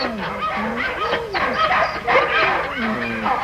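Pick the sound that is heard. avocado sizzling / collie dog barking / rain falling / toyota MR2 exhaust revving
collie dog barking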